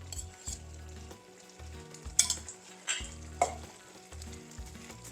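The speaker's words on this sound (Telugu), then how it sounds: "మళ్ళీ బాగా కలుపుతూ నెయ్యి అంతా లోపలికి కలిసిపోవాలి." Green grape halwa frying in ghee as a spoon stirs it in a pan, a steady close sizzle broken by repeated scraping strokes and clinks, with no talk.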